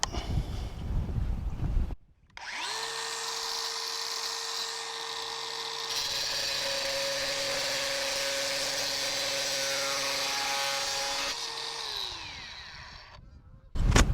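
A DEWALT FLEXVOLT DCG418 angle grinder spins up with a rising whine, runs at a loud steady pitch while cutting, then winds down, with outdoor background noise before and after.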